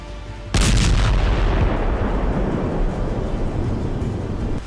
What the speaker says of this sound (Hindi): कंक्रीट का बंकर भेदने के बाद जबरदस्त विस्फोट होता है और सब कुछ तबाह हो जाता है।